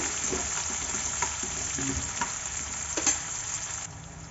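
Cut green chillies frying in a pan for sooji upma, a steady close sizzle with occasional stirring clicks and scrapes, easing slightly at the end.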